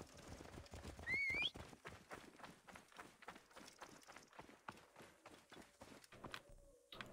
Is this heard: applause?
no